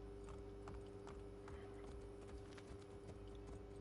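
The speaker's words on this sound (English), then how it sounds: "you can actually get the horse in here" Horse hooves clip-clopping in a quick, steady rhythm in the video game Assassin's Creed Brotherhood, faint and continuous with no voices over them.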